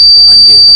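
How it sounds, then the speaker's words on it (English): A homemade DIY push-triggered door alarm sounds a loud, steady, high-pitched electronic tone, close by and unbroken for a brief moment. "If door pushes, it pushes it and gives an alarm."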